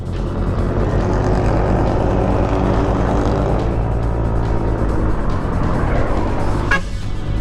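A Yamaha Tricity tricycle engine drones steadily while riding, its continuous low rumble mixed with road and wind noise at constant loudness, and a brief horn-like toot comes near the end.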